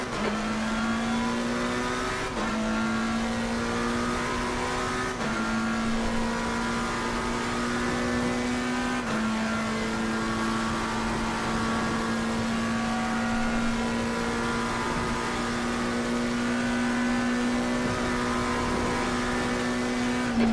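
A race car engine in the Slipstream racing video game drones steadily and loudly at high revs, its pitch stepping up and down at a few gear shifts as the car keeps driving, with no talk.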